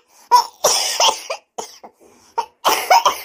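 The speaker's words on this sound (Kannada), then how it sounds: "ಕೆಮ್ಮಿ ಎದಿ ಎಲ್ಲ ನೋವಾಕತ್ತೈತಿ, ಹೊಟ್ಟೆ ಎಲ್ಲ ನೋವಾಕತ್ತೈತಾಗ" A person with a chest-aching cough hacks in a string of harsh, close coughs, about six bursts in irregular clusters with short breathy gaps between, loud and alone.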